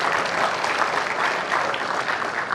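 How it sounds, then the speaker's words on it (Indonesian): Steady, dense audience applause at a televised interactive dialogue event with a vice-presidential candidate and young people, a loud continuous wash of many hands clapping for the whole stretch. "Tepuk tangan buat mereka berdua."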